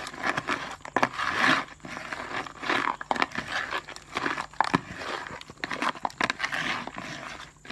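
Crab curry ingredients being mixed by hand, close and fairly quiet, with irregular squelching, crunching and crinkling bursts and no talking.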